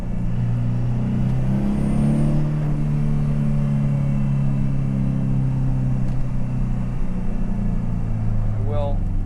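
A Volvo 240 with a swapped-in T5 engine drones steadily on a test drive, the engine note rising and falling in smooth harmonics under constant road noise, with someone speaking over it.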